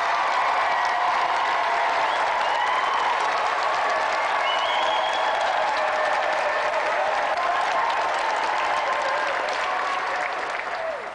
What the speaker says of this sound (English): let's give another round of applause for our two special guests tonight, Jet and Shadow!